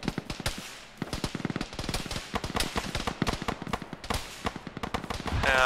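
Rapid bursts of automatic gunfire crackle nonstop, dense and sharp, with overlapping shots in an action-game soundscape, amid nearby fire.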